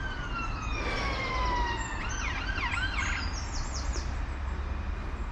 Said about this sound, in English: That sounds like an ambulance actually.